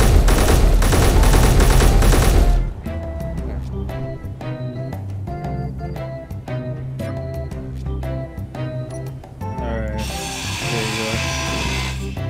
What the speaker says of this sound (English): Dude, stop firing, please.